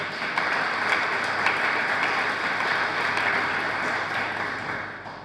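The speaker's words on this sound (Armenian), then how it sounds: "այստեղ ծափեր պիտի հնչեն" Audience applause at a political speech, a dense continuous patter of many clapping hands at moderate distance, holding steady for several seconds before easing slightly at the end.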